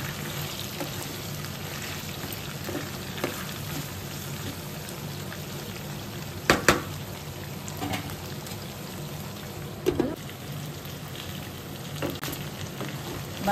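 Chicken pieces fry in oil for a spicy chicken fry, a steady low rain-like sizzle with a few sharp spatters and knocks, close and fairly quiet.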